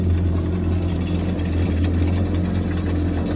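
A Yamaha WaveRunner high output 1.8 engine idles steadily and loudly at close range, with a constant low rumble and no voices.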